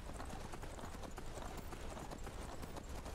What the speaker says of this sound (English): Get over here, you stupid horse.